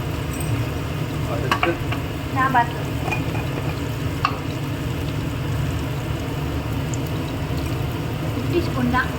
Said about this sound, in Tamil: கொஞ்சம் எண்ணெயிலேயே காய் வதங்கிட்டா கொஞ்சம் நல்லா இருக்கும்